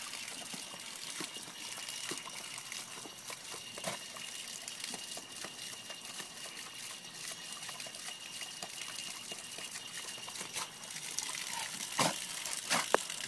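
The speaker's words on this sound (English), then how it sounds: "Here's the water fountain, Bailey." A pet water fountain runs continuously with a soft, steady gush and trickle of water, close by, with a few faint clicks and bumps toward the end.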